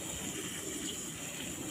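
Water poured steadily over a grape seedling, a continuous close splashing gush with no breaks and no talk.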